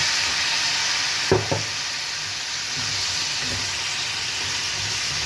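Pumpkin frying in a pan gives a steady, continuous sizzle, with a couple of brief clanks as it is stirred early on. There is no talking.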